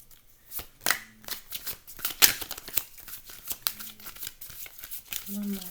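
Tarot cards get shuffled and drawn, giving soft riffling and papery flicks in uneven bursts while a voice talks quietly over the handling.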